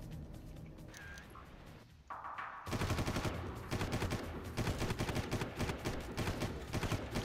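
Gunfire rattles in the Far Cry video game: loud, rapid automatic bursts crackle continuously through most of the clip after a quieter opening, with no talk.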